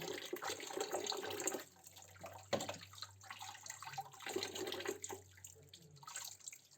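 Tap water runs steadily while a goat head is washed in a sink, the flow shifting and splashing as the head is moved under the stream, near and moderately loud with no talk.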